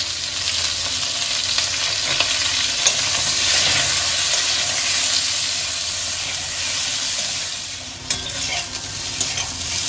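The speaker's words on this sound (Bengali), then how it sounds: "ওই তেলের মধ্যেই আমি কেটে রাখা পটলগুলো একটু হালকা লাল লাল করে ভেজে নেব" Cut pointed gourd pieces frying in oil, producing a loud, dense, continuous sizzle close by, with occasional soft clicks of stirring.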